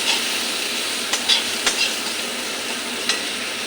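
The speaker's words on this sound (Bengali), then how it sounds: "একটু হলুদ দিয়ে দেব নুন দিয়ে দেব ভালো করে কষে নিই" Prawns being sautéed with turmeric and salt in hot oil, a steady close sizzle with a few soft stirring scrapes and clicks, no talking.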